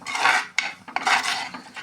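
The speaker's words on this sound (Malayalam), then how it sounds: "നമുക്ക് ഇതൊന്ന് നന്നായി ഇളക്കി കൊടുക്കാം." Fish curry base with curry leaves stirred in a pan, close rasping scrapes of a spoon against the pan in two broad strokes with a small knock between.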